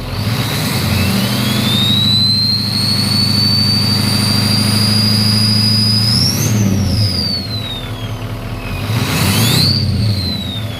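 A 6.0 Powerstroke diesel fitted with a Turbo Time USA Stage 2 turbo with a 64mm compressor wheel idles and revs, its loud turbo whistle climbing steadily, peaking, then falling before a second shorter spool rises near the end, all over a deep engine rumble.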